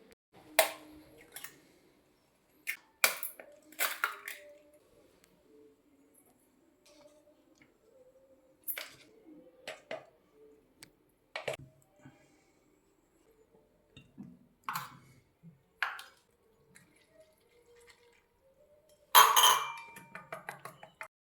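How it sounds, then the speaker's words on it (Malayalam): Two eggs whisked in a bowl with milk, salt, pepper, cornflour, chicken masala and ginger-garlic paste into a batter for eggplant, giving sparse, scattered spoon-on-bowl clinks and taps with quiet pauses between them. "രണ്ട് മുട്ട പൊട്ടിച്ചൊഴിച്ചിട്ട് കുറച്ച് ഉപ്പ് കുരുമുളക് പൊടി കോൺഫ്ലവർ ചിക്കൻ മസാല ഇഞ്ചി വെളുത്തുള്ളി പേസ്റ്റ് കുറച്ച് പാൽ ഇതെല്ലാം കൂടി ഒഴിച്ച് നന്നായിട്ട് മിക്സ് ചെയ്യാം"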